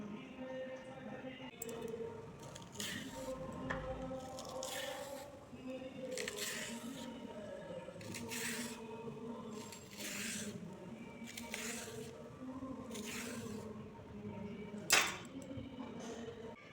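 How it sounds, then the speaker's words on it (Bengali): Fen taro stems being sliced thinly with a knife, a steady series of short crisp cuts repeating at an even pace, close and moderately loud over a low background hum. "দেখুন আমি এখন কিভাবে কেটে নিচ্ছি। একটু পাতলা পাতলা করে কাটবো।"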